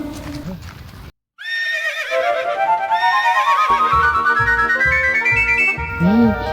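A horse lets out a loud, drawn-out neigh that rises and then trails off, followed by rhythmic clip-clop hoofbeats, with a voice briefly heard near the end.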